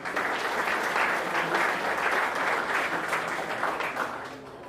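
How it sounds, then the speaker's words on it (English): An audience at a Blue Flag and Green Coast awards ceremony claps in sustained applause, a dense even patter that holds for several seconds before starting to fade. "another round of applause for Reinkonyeni"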